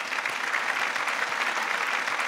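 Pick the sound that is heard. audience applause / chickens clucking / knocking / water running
audience applause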